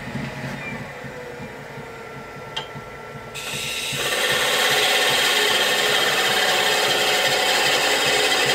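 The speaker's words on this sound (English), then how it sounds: "we can now part off our lid." A wood lathe parts off the lid of a small wooden box, a quiet scraping at first, then a louder steady spinning roar that holds to the end.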